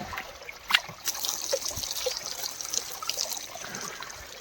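Water trickling and pouring from a can into a trough for cattle, a continuous close splashing stream with a few sharper splashes and clinks, no talk.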